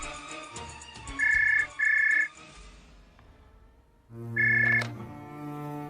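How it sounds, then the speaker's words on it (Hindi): A telephone ringing in a radio play, electronic trilling rings in short bursts, two close together then a third after a pause, over a faint musical background. "घर फोन करते पंकज"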